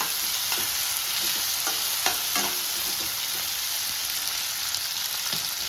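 Peanut chutney ingredients fry in a pan with a constant loud sizzle, broken by a few light scrapes of a spoon stirring, with no voices.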